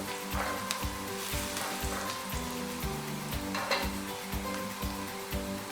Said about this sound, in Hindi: चिकन क्यूब ऑयल में ज़रा सी फ्राई हो जाए तो अच्छा टेस्ट हो जाता है इसका